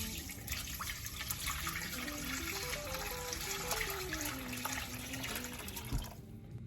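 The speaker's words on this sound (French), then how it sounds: "Je vais maintenant filtrer le bouillon à travers un chinois." Chicken broth for a chicken waterzooi strained through a chinois, giving a steady, close rush of pouring and trickling liquid that runs for the whole stretch before thinning out at the end.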